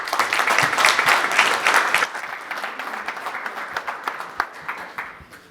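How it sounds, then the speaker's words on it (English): Conference audience applauding at the close of a Post Office Q&A session, a dense, steady clapping that swells loudly for the first two seconds, then thins and fades. "can we give them another round of applause?"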